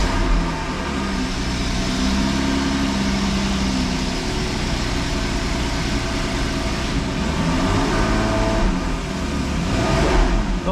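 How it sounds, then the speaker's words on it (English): A cold Porsche 981 flat-six direct-injection engine idles up close, a steady, loud, throbbing drone with slight wavering and a faint swell near the end, with no talking. "let you have a listen to that lovely flat 6 engine"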